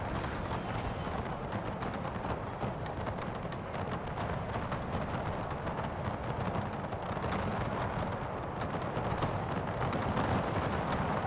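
An artillery barrage in Napoleon Total War thunders as a dense, continuous stream of booming cannon fire and crackling shots, rough and unbroken at a moderate level.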